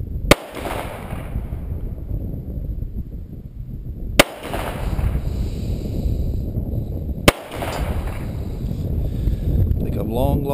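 Three loud, sharp pistol shots from a Bersa 383-A in .380 ACP and a Star M45 in .45 ACP ring out outdoors, spaced a few seconds apart, each with a fading echo over steady wind noise.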